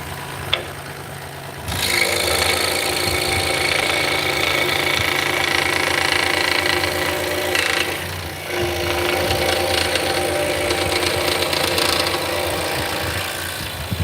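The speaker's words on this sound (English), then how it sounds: "This is a scroll saw, and the itty bitty blades are good for cutting curves." A small scroll saw starts after a quiet moment and runs steadily with a dense buzzing whir. It dips briefly near the middle, then resumes, close and loud.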